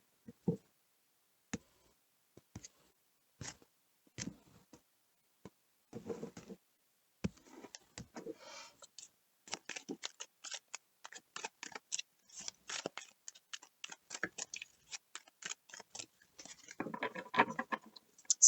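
Tarot cards are shuffled close by, starting as scattered single taps and clicks, then building into dense, rapid riffling flutters, quiet and dry with no talking.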